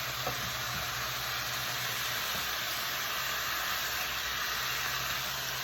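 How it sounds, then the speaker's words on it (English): Oxtail meat sizzles steadily in a pot, a constant broadband hiss with no talking over it. "now the meat's frying"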